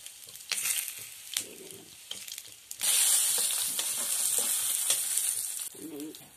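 Whole cumin seeds and bori lentil dumplings go into hot oil, with a few light taps before a loud, steady sizzle bursts up and continues close by.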